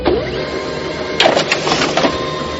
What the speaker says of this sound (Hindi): प्रिंटर में अटका हुआ कागज पूरी तरह से बाहर निकल गया